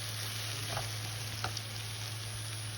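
Marinated chicken cooks in a karahi with a steady, close sizzle and a couple of soft stirring scrapes, no voices.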